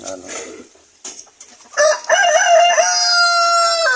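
Native chickens on a farm, with a rooster giving one loud, drawn-out crow close by after some scattered clucks and rustling.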